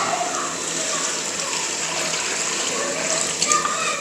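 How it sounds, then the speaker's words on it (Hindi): Water pours steadily into a pot of rice for chicken biryani, a continuous splashing rush that stays fairly close. "ये 5 डब्बे हमने भर के पानी में डाल दिए हैं।"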